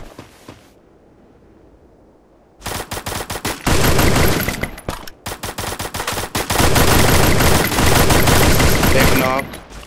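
Battle royale gunfire, starting after a quiet stretch with bursts of rapid automatic fire, loud and close, then a brief pause before more sustained volleys, with people talking underneath.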